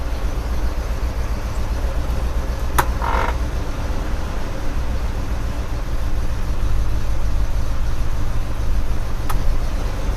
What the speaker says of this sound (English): I want to put it in gear and see what it does.